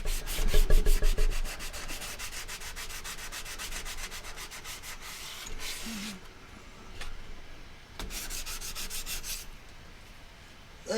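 Close, rhythmic strokes of 220 grit sandpaper smoothing wood, loud at first, then continuing in steady back-and-forth passes with a couple of brief pauses and no talking.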